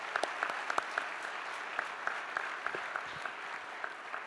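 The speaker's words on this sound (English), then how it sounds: "please give our staff and those who are making this really happen in the back rooms an applause for their service today too" An audience at a governors' meeting gives a light round of applause, scattered distinct claps in an uneven rhythm, fairly faint and somewhat distant, with no one speaking over it.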